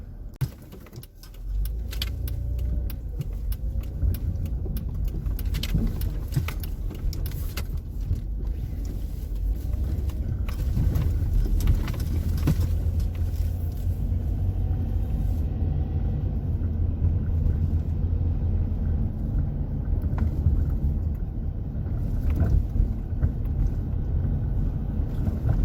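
A car drives down the 1400 block of North 42nd Street in East St. Louis: a steady, heavy engine and road rumble heard from inside the vehicle, continuous and close for the whole stretch.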